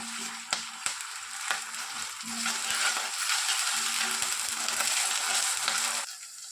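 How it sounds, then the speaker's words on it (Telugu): Ginger garlic paste sizzling in a hot pan for a potato and drumstick curry, a steady close hiss with light scraping stirs and a few soft clinks, no voices. "అల్లం వెల్లుల్లి పేస్ట్ వేసిన తర్వాత కాస్త పచ్చివాసన వెళ్ళేంత వరకు దీన్ని బాగా వేయించుకోవాలి"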